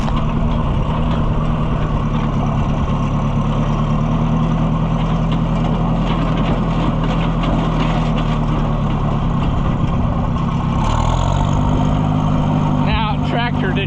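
An Oliver Super 55 tractor engine runs roughly near the microphone, a loud steady low drone that stumbles and shifts pitch partway through, with some background sounds.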